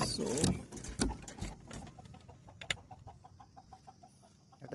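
Hen recovering from white diarrhoea, kept on a rooftop, giving a few loud close clucks at first, then quieter scattered clucks and small knocks.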